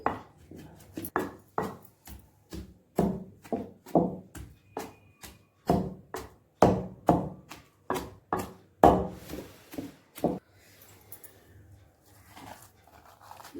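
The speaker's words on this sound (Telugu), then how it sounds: "ఇప్పుడు ఒకసారి కచ్చపచ్చ దంచేసుకుందామండి మెల్లిగా దంచాలి" Steady, rhythmic pounding of green mango chutney in a stone mortar, about two blows per second, close and fairly loud, fading into quiet after about ten seconds.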